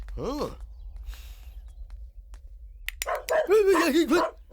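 A doorbell plays a dog barking sound: one bark, then a short pause followed by a burst of rapid barks.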